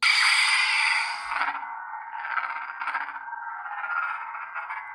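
A Proffie-board lightsaber staff ignites with a bright rushing burst, then settles into a steady, wavering electronic hum with slight swells.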